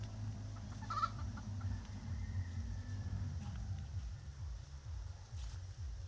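A chicken clucks softly a few times, somewhat distant, over a low steady mechanical drone.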